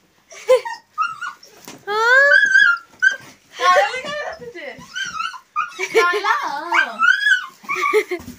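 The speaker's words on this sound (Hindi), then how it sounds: "कुत्ता था वहाँ पे।" A dog whimpers, yelps and gives short barks in a series of high, whining cries with brief pauses between them, close and fairly loud, with a person talking at times.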